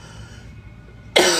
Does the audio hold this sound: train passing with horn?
no